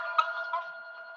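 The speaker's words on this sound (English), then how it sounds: "my phone is ringing in the background" A phone rings in the background during a Highgate selectboard meeting, a steady sustained electronic tone with slight wavering, moderately loud and alone without talk.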